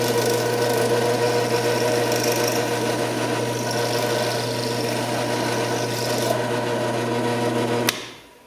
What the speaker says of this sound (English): Turn on your drill press, and you can take the top of the rivet off.